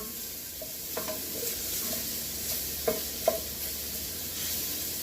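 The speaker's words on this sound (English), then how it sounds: "in a hot pot. And just let it cook down." Diced scrunchions of salt pork fat fry in a hot pot with a steady broadband sizzle, broken by a few sharp spoon scrapes and taps against the pot; no voices.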